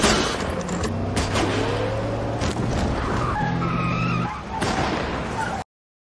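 Gunfire erupts at a car in a film action scene, with loud bursts, squealing tires and a revving engine, all sustained and dense for about five seconds before cutting off.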